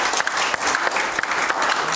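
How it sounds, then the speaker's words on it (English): A church congregation claps together in a dense, loud burst of hand clapping, full and sustained for about two seconds. "Give the Lord a hand clap."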